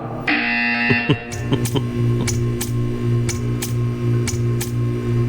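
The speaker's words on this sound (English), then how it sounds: "You will hear a buzzer." In Portal 2, a steady electric hum runs under a series of short, sharp buzzer bursts that repeat at a regular beat after an opening tone.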